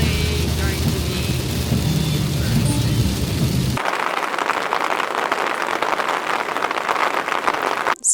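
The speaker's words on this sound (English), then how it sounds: "Well, it's certainly raining." Heavy rain falling during car camping, a dense steady hiss of drops on the surface that continues without a break; partway through, the sound becomes brighter and thinner.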